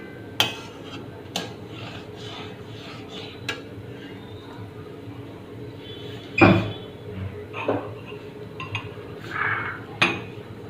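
Mango kulfi mixture being stirred in a pan, with a utensil scraping and clinking against the metal in sporadic, close knocks over a low steady background.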